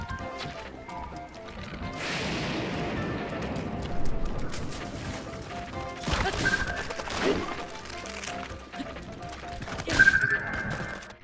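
A horse in Breath of the Wild whinnies faintly among clattering hooves and sharp crashing hits during a fight with bow-wielding enemies. Everything stays fairly quiet and distant.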